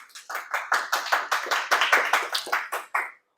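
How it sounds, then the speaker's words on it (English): Applause for a school team from Maria Regina: a steady run of sharp, close hand claps, roughly a dozen bursts in quick rhythm that stop abruptly near the end, with no talking over them. "A huge round of applause to my fellow Maria Regina Aquinas team"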